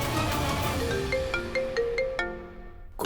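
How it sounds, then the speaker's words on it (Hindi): A mobile phone rings nearby with a bright, melodic ringtone, a short rising tune of clear electronic notes that cuts off after a few seconds. "गुड़िया का फोन"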